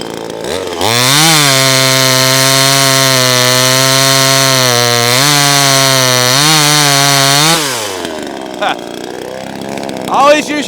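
NEO-TEC 25cc 12-inch gas chainsaw cutting through wood, a loud sustained buzzing whine that dips in pitch as the chain bites, then drops to idle and cuts out with faint handling noise afterward.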